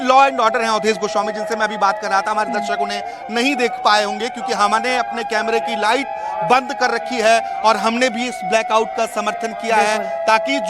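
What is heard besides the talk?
No everyday noise stands out behind the speech.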